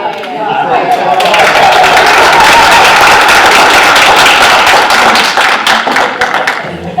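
A burst of clapping from a group of people, dense and sustained for several seconds before tapering off, with some voices mixed in.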